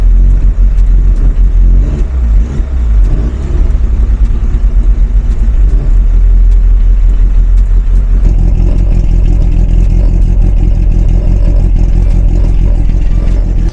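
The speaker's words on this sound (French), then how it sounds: "comme elle a démarré du premier coup" A car engine cranks and catches on the first try, then revs loudly and close up with rough clattering rumble before settling into a heavier steady run.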